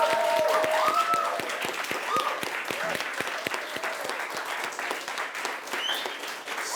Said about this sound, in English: can you join me in a huge round of applause for all of our finalists?